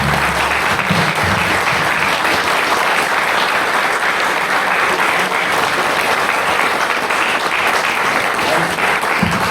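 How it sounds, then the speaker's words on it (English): A loud, sustained round of audience applause welcoming a speaker at a John Maclean commemoration talk, dense and even throughout with a few voices underneath. "give a good round of warm applause, an introduction and welcome to Henry Bell on the question of Maclean"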